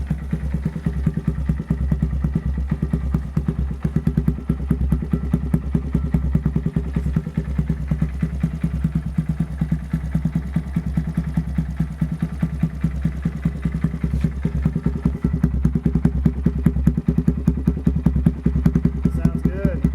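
A Honda Monkey Z125 fitted with a Zoom Loop exhaust idles steadily close by for the full stretch, its low engine thrum laced with light clatter and occasional thumps.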